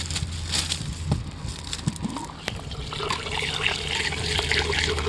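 Water pours and trickles steadily into an aquaponic flood and drain system, a continuous splashing, gurgling flow with occasional sloshes and clunks, fairly close and unbroken throughout.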